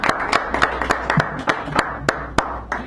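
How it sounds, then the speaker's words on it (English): A small audience at a San Francisco café poetry reading claps in sparse, uneven individual claps, close and fairly loud, with no talking. "Give him a round of applause, Rob, our keynote of the evening"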